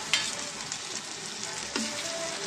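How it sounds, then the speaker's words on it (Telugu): Masala paste of onion and cumin frying with onions in a pan for a chicken drumstick curry, a steady close sizzle with a couple of stirring scrapes. "ఇది కూడా కొంచెం పచ్చివాసన పోయేదాకా ఫ్రై చేద్దామండి"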